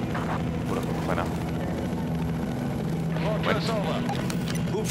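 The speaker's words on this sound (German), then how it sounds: "Hubschrauber über dem Platz" A helicopter in the video game Battlefield 4 flying over the area, its rotor drone a steady low throb beneath game effects and someone talking in German throughout.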